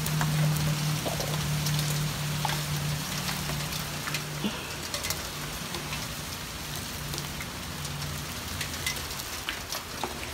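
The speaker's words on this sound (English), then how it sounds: "so it starts to rain" Steady rain pouring down, a continuous hiss of drops on a surface with a low hum underneath, lasting throughout.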